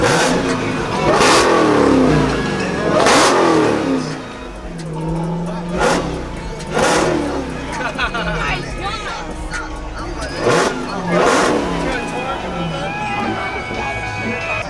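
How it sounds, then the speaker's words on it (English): A Dodge Hellcat strapped to a dyno roars through repeated hard revs, each surge rising and dropping away, loud and close, with people talking and shouting between the blips. "Rev it. Give it a little bit of juice."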